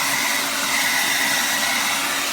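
A Revlon Turbo 1875-watt hair dryer runs steadily at close range, giving a loud, even broadband whoosh with a faint high whine and no talking over it.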